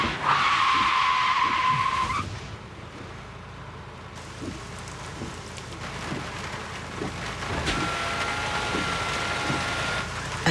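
Car braking hard and skidding in a Volkswagen Jetta advertisement, a loud sustained tire squeal for about two seconds, then rumbling road and rain-like noise with scattered impacts.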